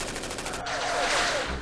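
Anti-aircraft guns open fire in the Campaign Series Vietnam war game, in the Lam Son 719 scenario: a loud, rapid burst of pulsing shots that swells into a dense, roaring barrage within under two seconds.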